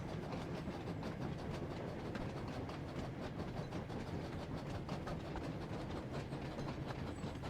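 A train running in a Thomas & Friends video game, a steady, faint rolling rumble with rapid clickety-clack of wheels continuing evenly throughout, without talk.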